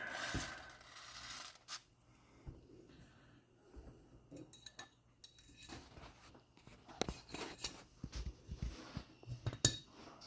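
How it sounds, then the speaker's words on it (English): Small metal parts click and clink softly as the extractor is fitted into a 1945 M1911 Remington Rand pistol during reassembly, with scattered light taps and scrapes in a quiet room and no talking. "let's get our extractor put in"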